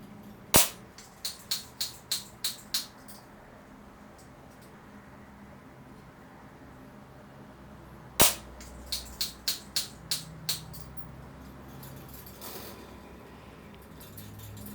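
Crosman pump-up air rifle fired with a peep sight at 10 meters, a run of sharp dry cracks in two bursts of about six shots each, quick and evenly spaced against a quiet background.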